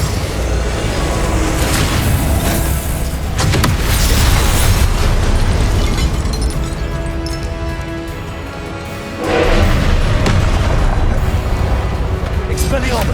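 Loud repeated explosions from the Confringo blasting spell in a Hogwarts Legacy duel merge into a dense, rumbling din, swelling again with a sharp burst late on, while a voice speaks underneath.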